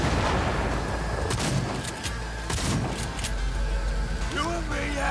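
Cyberpunk 2077 combat with gunfire and a grenade blast: a dense, loud wash of shots and booms with sharp cracks over continuous rumble and a whooshing tail.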